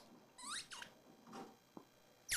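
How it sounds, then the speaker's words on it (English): A dog squeaks a squeaky toy ball indoors, several sharp, loud squeals in irregular bursts over a quiet background, with a final loud squeak at the end. "He's squeaking his ball."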